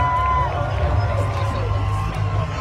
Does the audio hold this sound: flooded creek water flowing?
no